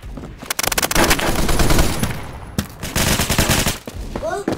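Rapid automatic gunfire in the Roblox game Phantom Forces, loud dense bursts with a short break in the middle, then more firing and a few whooshing effects near the end.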